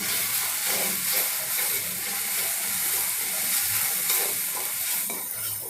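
Masala with turmeric sizzles and fries in a hot pan, a steady broadband hiss running throughout, close and loud, with soft stirring scrapes and no talking.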